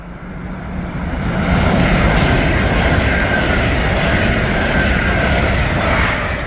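An Avanti West Coast express running from London Euston to Birmingham New Street passes through Berkhamsted station, a loud, sustained rush of wheels and air that swells within the first seconds and holds steady.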